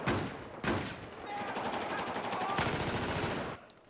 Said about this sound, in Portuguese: Isso aqui é uma metralhadora?